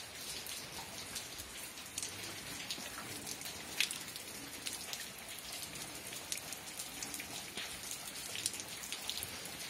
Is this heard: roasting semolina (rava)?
no